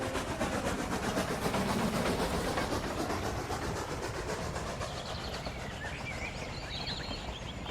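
A train hauls boxcars along railroad tracks, a loud continuous rumbling roar with a rapid rhythmic clatter of wheels that stays close and steady, easing slightly toward the end.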